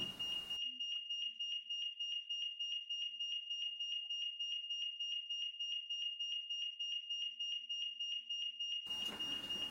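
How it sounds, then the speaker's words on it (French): An Aeotec ZW080 Gen 5 Z-Wave home alarm siren blares continuously in rapid pulsing beeps, loud and close, starting and stopping abruptly. "on voit que les sirènes sont en fonction"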